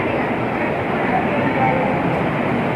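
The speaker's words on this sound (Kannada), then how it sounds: "Train number 11013 LTT Coimbatore express platform number 6ಕ್ಕೆ ಬರ್ತಾ ಇದೆ." Express train at a railway station platform, with steady broadband rumble and crowd noise throughout, continuous and fairly loud, no distinct horn or announcement standing out.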